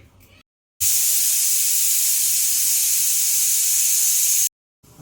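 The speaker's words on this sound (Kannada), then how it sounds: "ಕುಕ್ಕರಲ್ಲಿ ಸೊ ವಿಜಿಲ್ ಕೂಗ್ತು ಕೂಗ್ತಾ ಇದೆ ಒಂದು ವಿಜಿಲ್ ಆಗಿದೆ" A pressure cooker cooking field bean sambar lets out one long, loud, hissing whistle of escaping steam lasting several seconds, starting and stopping sharply amid near silence.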